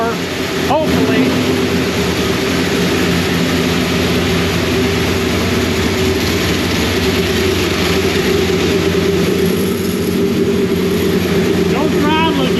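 A Max Wedge car with a faulty transmission runs under its own power, its engine producing a loud, continuous heavy drone, with brief voices at the start and end.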